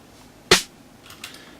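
A single snare drum sample from FL Studio cracks out as one sharp, loud hit, followed by a few much fainter ticks in an otherwise quiet stretch.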